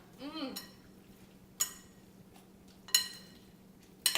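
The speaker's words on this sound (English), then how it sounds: "Just give it a couple more stirs here." A spoon stirs a creamy spaghetti squash side dish in a pot, with three or four sharp clinks of utensil on cookware spaced over a few seconds. Quiet scraping and a brief voice fill the gaps between them.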